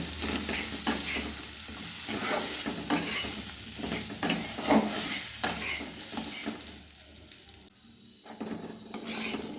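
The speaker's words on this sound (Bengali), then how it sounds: "এবার আমি মুগের ডালটা দিয়ে দেবো ধুয়ে ভালোভাবে ধুয়ে রেখেছিলাম জল ঝরিয়ে রেখেছি এবার একটু ভেজে নেব" Washed and drained mung dal fries in a hot pan while being stirred, giving a steady close sizzle broken by repeated scraping strokes and light clinks of a utensil against the pan. The sizzle thins out near the end.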